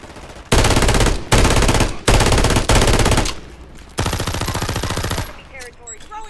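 Rapid automatic gunfire from a customised Holger 26 light machine gun in Call of Duty Warzone: four loud sustained bursts separated by brief pauses, then a longer burst, with faint in-game effects at the end.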